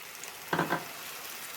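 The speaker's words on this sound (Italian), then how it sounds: "aggiungo, questo è facoltativo, un po' di vino e lascio sfumare prima di aggiungere la salsa" Wine poured into a hot pan of eggplant ragù gives a short, sharp hiss that fades quickly against a constant background sizzle, with no voices.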